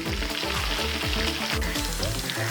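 Quail pieces fry in a pan at close range, giving a loud, continuous sizzle with steady crackling throughout and no voices.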